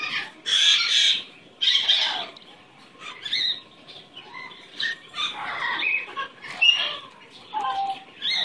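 A pet bird makes bursts of chirps and chatter at close range. An owner's cooing voice runs between and over the calls.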